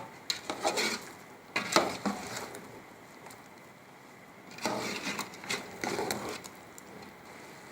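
Onions fried light brown being stirred and sautéed with masala in a pan for Lahori murgh cholay, giving soft scraping and clinking bursts of spoon against pan with a quieter pause between, close and moderately quiet.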